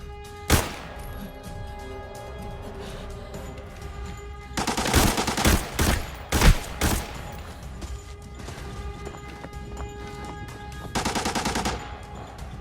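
M4A1 rifle fire in the shooter game Arena Breakout: a single sharp shot early, then loud rapid bursts of automatic fire midway and another short burst near the end, with quieter background between them.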